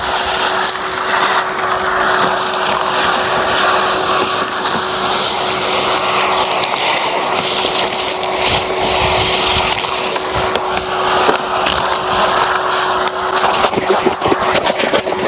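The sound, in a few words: vacuum cleaner hoovering up broken car window glass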